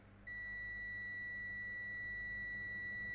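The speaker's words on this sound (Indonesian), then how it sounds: "Yang ini multitester arahkan ke mode dioda atau buzzer." Multitester set to diode/buzzer continuity mode gives a steady, continuous high-pitched beep that starts a moment in and holds alone, probing a Toshiba L745 laptop board.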